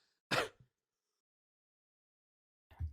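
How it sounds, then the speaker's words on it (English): One sharp throat-clearing cough near the start, loud and close, then silence, and a second short rough cough or throat-clear at the very end, with no talk around them. "Sorry, I'll be coughing."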